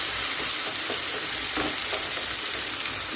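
Spiced masala sizzles in oil in a pan as cooked dal is stirred in for dal baati, giving a steady crackling fry with soft scraping stirs throughout and no talk.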